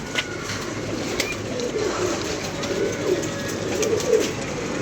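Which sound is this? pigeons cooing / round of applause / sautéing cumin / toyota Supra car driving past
pigeons cooing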